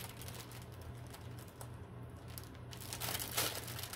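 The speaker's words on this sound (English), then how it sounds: "opening a plastic bag here" A plastic bag being opened during an unboxing of a horror-themed subscription box, with soft crinkling and rustling close by that swells into a louder crackle near the end, over a steady low hum.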